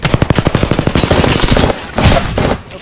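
Rapid automatic gunfire from an Apex Legends firefight rattles out in a fast, evenly spaced burst, then breaks into a denser, noisier stretch of shots and impacts, loud and close.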